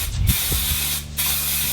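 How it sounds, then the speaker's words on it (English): Aerosol spray paint hisses onto a BMX bike frame for a colour coat, two loud close bursts separated by a brief pause, with faint clicks of the can at the start. "Now I'm going to start spraying my colour coat."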